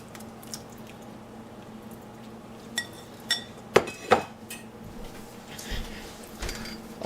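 Pieces of tofu drop into a pot of boiling coconut curry on a home stove, with a few sharp clinks of utensil on pot and soft squishy splashes over a low steady hum of bubbling.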